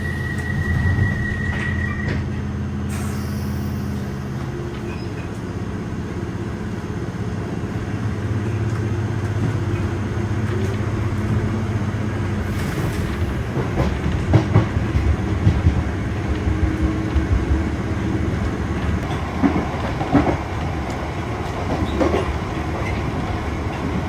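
A London Underground Piccadilly line train bound for Uxbridge runs steadily, its rumble and clattering wheels carrying on throughout with shifting tones, a brief high whine near the start and busier rattling toward the end.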